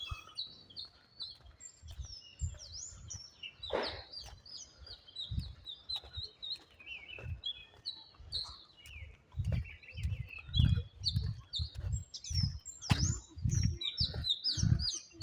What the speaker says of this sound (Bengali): পাখির কিচিমিচির শব্দ আর দেখতে খুবই অসাধারণ আর খুবই নীরব জায়গাটা